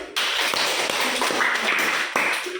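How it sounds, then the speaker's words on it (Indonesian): Hand clapping in a classroom lesson, a run of crisp claps in an uneven rhythm, close and fairly loud, with little talk underneath. "Itu adalah salah satu contoh dari tepuk tangan."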